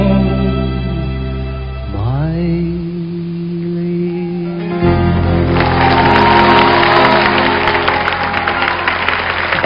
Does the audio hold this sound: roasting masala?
no